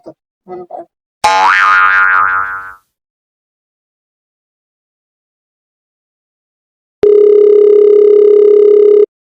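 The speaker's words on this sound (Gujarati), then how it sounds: "પેલા ગફુરકા ડોક્ટર ને હા એને બોલાવો ફોન કરે ફોન કર" A telephone dial tone plays as a call is placed, a loud steady hum lasting the final two seconds. It comes after a springy boing, a few brief blips and a long silence.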